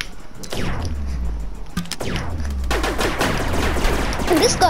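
A gun firing in the Rec Room laser tag game, close bursts of sharp electronic shots with sweeping zaps, repeated in quick clusters.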